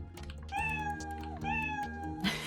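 A cartoon cat sprite's meow sound effect plays twice, each a clear drawn-out tonal mew over quiet background, followed by a short clicking noise at the end.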